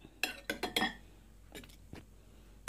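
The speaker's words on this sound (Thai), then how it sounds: "ก็ค่อยๆตำแบบบดนะคะให้เครื่องมันเข้ากัน" Pestle pounding boiled fish and cooked tomato in a mortar for a pickled-fish chili paste: four close knocks in quick succession, then a few softer, sparser taps.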